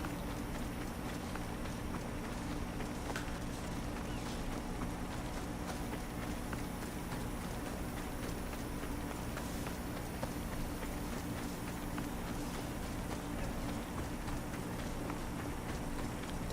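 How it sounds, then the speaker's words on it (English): Steady hoofbeats of a galloping horse in Assassin's Creed Odyssey run continuously under a dense, even wash of game ambience and music, never letting up. "This is my horse."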